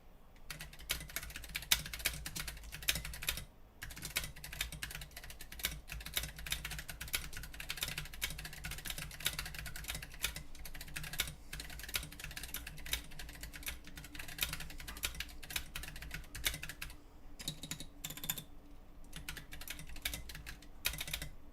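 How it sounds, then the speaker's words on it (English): A custom 1UP HSE hot-swap 60% mechanical keyboard with 67g switches is typed on quickly, a dense run of close, crisp key clacks with brief pauses, no voices. "Ready for a little typing test?"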